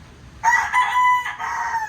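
A rooster crows once, close and loud, a drawn-out call with a brief break midway, starting after a short quiet moment.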